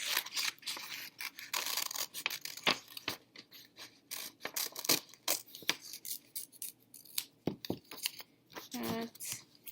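Scissors snip through paper in a craft session making a handprint police car, a series of short crisp cuts spaced irregularly, close up, with a person speaking between the cuts.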